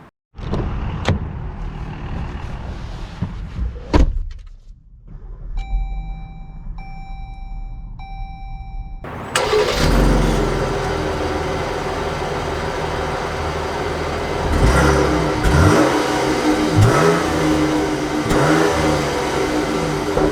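A 2021 Jeep Grand Cherokee L Limited cranks and starts after a few clicks and soft chimes, then its engine settles into a steady idle and rises as it pulls away, heard from inside the cabin.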